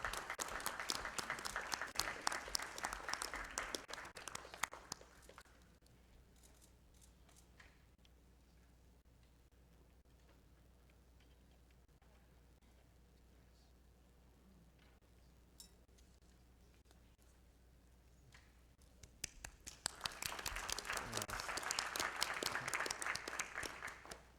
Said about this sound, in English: Please, let's give Camilo a round of applause